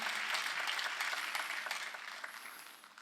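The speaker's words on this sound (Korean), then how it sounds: "박수로 하나님께 영광을 돌려야 된다는 거예요" A church congregation breaks into sustained applause, a dense wash of many hands clapping that echoes through the hall and slowly fades over three seconds.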